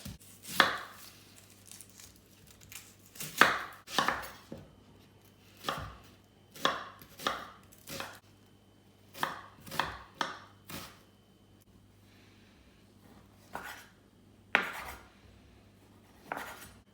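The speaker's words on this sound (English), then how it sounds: "First step is to slice your garlic." A knife slicing garlic and chorizo on a cutting board in irregular bursts of sharp, close knocks, with brief pauses between runs of cuts.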